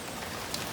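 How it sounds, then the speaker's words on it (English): Steady rain falling during Hurricane Beryl, a constant dense hiss of drops close by with no voices. "As you can see, it's still raining."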